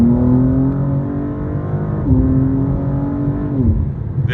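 A car climbs uphill through a corner at part throttle, its engine note steady and loud with a clear pitch rise and shift partway through, the drone continuing close up with no voices.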